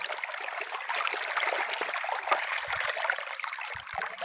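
A quiet, steady rush of dam water flowing into a sesame field, like a stream running through a channel, with no talking.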